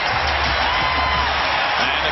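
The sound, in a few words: basketball arena crowd cheering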